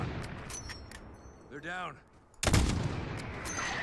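Gunfire and mortar fire in Call of Duty Modern Warfare: scattered sharp shots crack early, then a heavy blast hits and rumbles on, with a brief spoken line in between.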